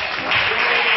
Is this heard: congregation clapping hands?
yes